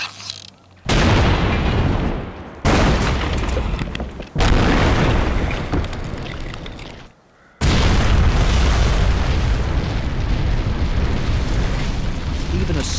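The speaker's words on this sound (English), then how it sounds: "Even a small bomb, like this, produces so much heat that gases in the air expand rapidly, creating a lethal, high-pressure blast wave." A controlled detonation of a small bomb gives several loud, sustained roaring blasts, each cutting in suddenly, rumbling for a second or two and then dropping away, with the last and heaviest boom rolling on to the end.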